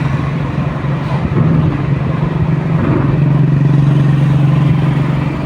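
Steady low engine drone and road rumble from inside a car cruising along National Highway 541 in light morning traffic, continuous and fairly loud with no talk.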